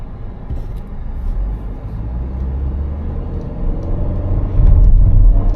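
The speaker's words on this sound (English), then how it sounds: "Takes off pretty well even outside of sport mode" A 2019 Nissan Rogue SUV pulls away from a stop, its engine rumble climbing steadily and swelling louder near the end, heard up close with no talking.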